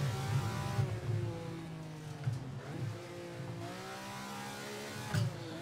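Ferrari engine in the Assetto Corsa racing game revving hard, its pitch sweeping up and down through gear changes, loud and close with a brief tire squeal-like burst near the end and no talk.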